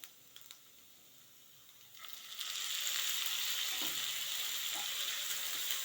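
Onion and tomato fry in a pan over a low flame for carrot palya, and the quiet start swells into a steady close sizzle after about two seconds, with a few soft stirring scrapes.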